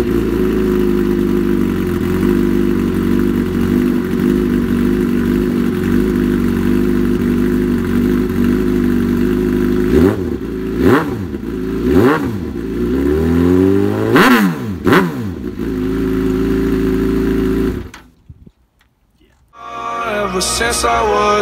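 A street motorcycle set up for track use, mirrors removed, idles steadily and then revs in several sharp, rising bursts near the microphone, before the engine cuts and a brief quieter stretch follows.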